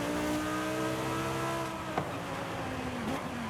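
A Lamborghini engine revs high and steady in Forza Horizon, its pitch easing as the car slides around a corner, with a brief thump midway, close and loud throughout.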